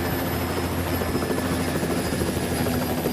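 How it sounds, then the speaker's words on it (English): A helicopter drones loudly and steadily, its rotor thrum and engine whine constant throughout with no voices. "I put Michaela into the helicopter and flew to the trauma center"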